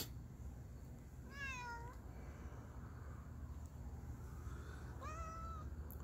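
A small cat meows twice outdoors, with two clear, drawn-out calls a few seconds apart, rising then falling, at moderate distance over a constant low background hum.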